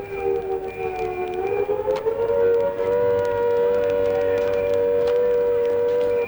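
A loud wailing 1939 British air raid warning siren rising in pitch and then holding a sustained droning tone.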